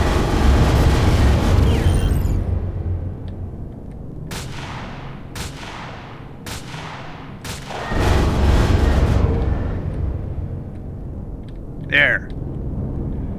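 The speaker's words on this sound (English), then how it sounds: "Where'd that shot come from?" Sharp gunshots ring out in Empyrion Galactic Survival: a rapid series of four or five loud reports with ringing decays, over a steady low rumble of game ambience, followed by a brief high chirp.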